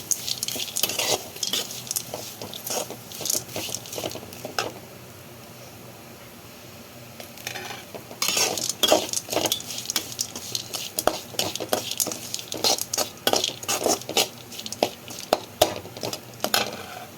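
Grated coconut sautéed in a pan: bursts of spatula scraping and stirring clatter come in uneven rhythm, with a quieter pause in the middle, and a faint frying hiss sits underneath.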